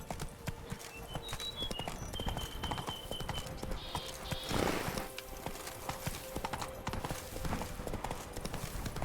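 Rhythmic horse hooves clip-clop steadily in a video game, close and continuous over game music and ambient effects, with a brief swell of noise midway.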